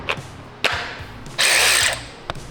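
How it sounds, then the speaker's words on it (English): A cordless ratchet powered by a small 2 amp-hour battery gives a few quick bursts followed by a longer, loud whirring run of about half a second, then one more brief blip, close up in a garage. "Cordless ratchet, finally."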